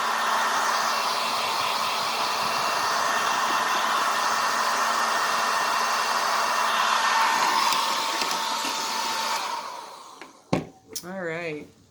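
Hair dryer blowing on a painted rock, a loud, steady whooshing roar held close for about ten seconds before cutting off, followed by brief clatter and short voice-like sounds.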